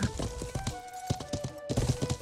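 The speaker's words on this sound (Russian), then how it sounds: "Кто у вас тут на лошади скачет? Две штуки аж, два всадника." Horse hooves clip-clop in an online video game where two riders gallop past, a rapid, uneven series of fairly loud hoofbeats with no talk.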